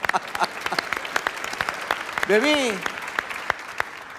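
Applause from an audience cheering a young girl who has just recited Quran, with a near burst of clapping and cheers, a brief whistle-like rising and falling tone midway, and a voice speaking over it.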